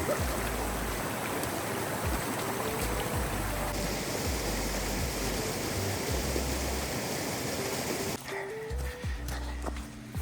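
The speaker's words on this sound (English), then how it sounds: "we walked through the water again, and now ChaCha's worried about hypothermia" A mountain stream flows at a hiking trail crossing in autumn near the Pecos River, a steady loud rush of water throughout with footsteps splashing and clunking close by.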